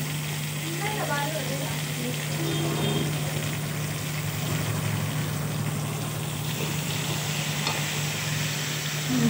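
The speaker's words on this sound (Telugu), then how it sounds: "ఇది రెండు మంచిగా నూనెలో వేగాలి." Brinjal pieces frying in oil for a curry, a steady soft sizzle with some stirring clatter under a constant low hum, fairly quiet throughout.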